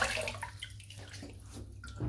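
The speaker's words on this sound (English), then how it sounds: "Pop a little bit of water in my face" Water splashes onto a face from a sink before a wet shave, a soft, close run of watery trickles and splashes at low volume.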